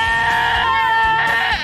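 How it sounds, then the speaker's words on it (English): A goat bleats loudly and close by in one long, wavering, strained cry that breaks and rises again toward the end. "this goat has some notes on your technique"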